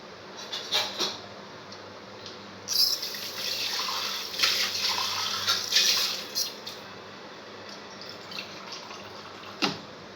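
Water poured from a tumbler over flattened rice to soak it, a gentle splashing trickle that swells for a few seconds and then tapers off, close and fairly soft with small clinks.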